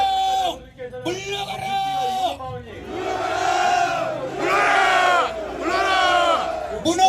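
Rally crowd in Korea bellowing a slogan in unison, several long massed shouts rising and falling in rhythm, loud and close, with a leader's voice calling between them.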